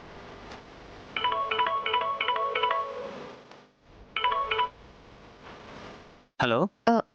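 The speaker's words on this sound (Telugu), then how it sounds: "శ్యామ, ఒకసారి నువ్వు అరుణానికి ఫోన్ చేసి కనుక్కో." Telephone dialing tones sound as two bursts of rapid, evenly spaced electronic beeps separated by a short gap, followed by a few sharp warbling chirps near the end.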